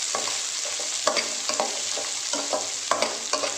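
Sliced onions with whole spices like cloves, fennel and poppy seeds frying in a pan for a goat intestine curry, a steady hiss with repeated stirring scrapes at an even pace, no voices.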